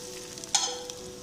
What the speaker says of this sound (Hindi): अब इसको हम दाल के ऊपर तड़का लगाएंगे